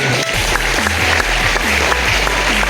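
A crowd at a DXN annual recognition night in Maharashtra gives loud, dense applause, with sustained tonal music sounding beneath the clapping.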